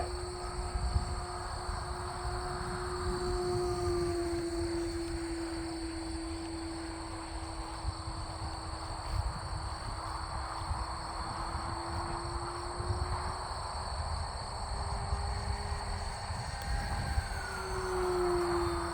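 An E-flite Pitts S1S 850mm RC plane flies with a fitted exhaust whistle, a faint sustained tonal whistle that rises and falls over steady motor and wind noise, with no talk.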